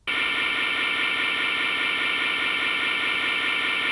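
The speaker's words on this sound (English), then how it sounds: "it takes a little bit of that crash sound and kind of repeats it" A 909 crash cymbal sample is held and repeated by a Plus sustain pedal, starting abruptly and swelling into a loud, continuous, hissing shimmer that stays even throughout.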